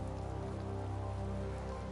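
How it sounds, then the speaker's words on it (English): Rain falls steadily in Tales of Vesperia, a dense, even patter on surfaces that fills the scene without pause. "It's raining after all."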